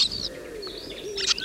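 Starlings at a nesting hollow call with a quick run of high whistles, slurred chirps and a lower gliding note, close and fairly quiet, with no talk.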